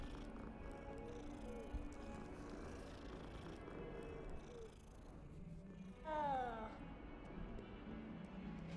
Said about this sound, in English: Found the same cat.